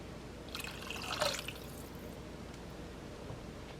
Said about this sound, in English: I'm going to add another cup of water because some of it's going to evaporate